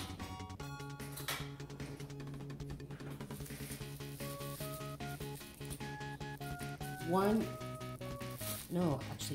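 A tablespoon of butter melts in a hot pan while cooking cachapas, giving a soft, steady sizzle and hiss that sits under prominent background music, fairly quiet overall.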